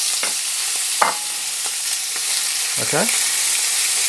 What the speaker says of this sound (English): once it's spread out, leave it. Let it sear, let it start to brown off.